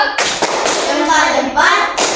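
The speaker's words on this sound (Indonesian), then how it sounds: "Tepuk tangan untuk kelompok 1" A classroom of pupils gives a loud, close group clap for their classmates, a few sharp bursts of hand claps and thumps separated by short gaps, with children's voices mixed in.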